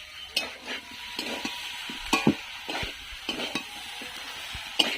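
Raw jackfruit (echor) sautéing in a pan, with a steady sizzle and repeated stirring scrapes and clinks of a spatula, close and fairly clear.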